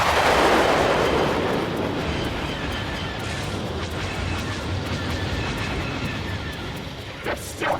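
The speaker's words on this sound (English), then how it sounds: "They're still firing!" Heavy weapons fire rumbles through a sci-fi battle on the Moon, a dense, sustained roar of explosive blasts that is loudest at the start, then settles into a steady barrage with a few sharp bangs near the end.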